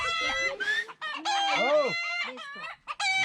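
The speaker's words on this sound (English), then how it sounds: "Fucking chicken!" A rooster crows loudly and close, with hens clucking around it in a rural yard, while a person exclaims briefly over the birds.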